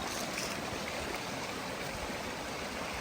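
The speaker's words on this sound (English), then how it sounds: "We have made it to the creek." Creek water flowing near Herrin Knob Falls in Balsam Grove, North Carolina, with a steady, close rushing wash that runs unbroken for the whole moment and no voices.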